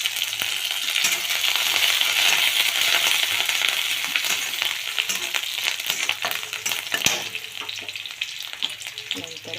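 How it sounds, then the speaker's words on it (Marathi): Chopped onion frying in a hot pan for a Maharashtrian ridge gourd chutney, a steady close sizzle with occasional stirring clinks and scrapes, no talking. "छान असं 2 मिनिटं त्याला चांगलं फ्राय करून घ्यायचं आहे"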